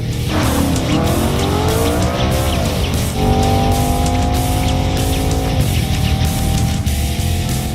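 A 2014 Audi RS5 coupe is driven on a wet track, its engine revving up and shifting, with tire noise and a sustained loud drone as the car accelerates close by.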